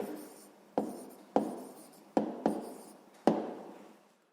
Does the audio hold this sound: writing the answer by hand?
yes